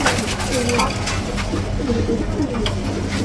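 Several pigeons coo in low, throaty murmurs, overlapping and repeating close by, with rustling and faint background noise.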